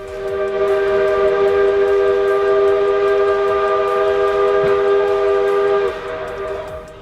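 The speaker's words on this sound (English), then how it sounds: "If he can't see or hear an approaching train, then he really shouldn't be driving." A train horn blows one long, loud sustained chord close by at a railway crossing, holding steady for several seconds before cutting off, with the rumble of the train beneath.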